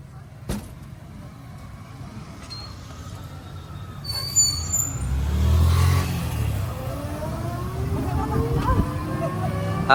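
Several motorbikes pull away together on a road beside Dubail Bil in Kaliakair, engines rising in a swelling, revving roar midway that passes close and then carries on steadily.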